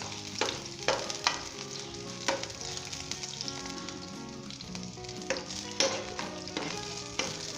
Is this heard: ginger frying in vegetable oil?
yes